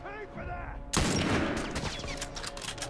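Gunfire in The Last of Us erupts suddenly as a loud burst of rapid shots after a moment of talking, continuing as a dense volley.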